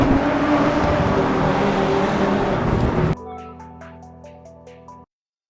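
Loud race car engine roar in the racing game Assetto Corsa Evo, a dense, steady drone for about three seconds, then cut off abruptly, followed by soft musical tones that fade into silence.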